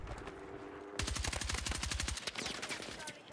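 Rapid automatic gunfire in Battlefield 6, a sustained close burst of fast regular shots after a quieter start, followed by a further stretch of scattered firing.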